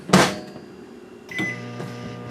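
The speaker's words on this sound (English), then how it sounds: "I'm going to take like a cup of water, put it into the microwave, and turn it on." A click and beep as a microwave starts heating a cup of water, followed by a steady low electrical hum running quietly.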